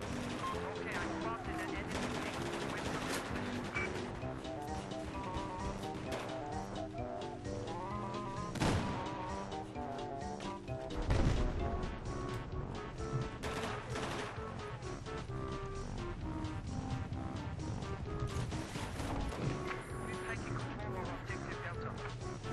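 Heavy .50 caliber machine gun fire in Battlefield 4 gameplay, rapid loud bursts repeating throughout over a dense mix of game music and battle noise.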